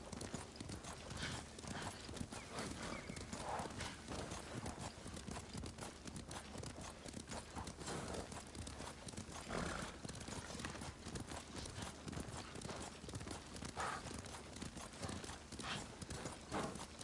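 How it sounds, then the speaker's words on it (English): Horse hooves clip-clop steadily through a game scene in Ghost of Tsushima, with an occasional whinny breaking through a dense, continuous bed of ambient sound. "Leave the horses."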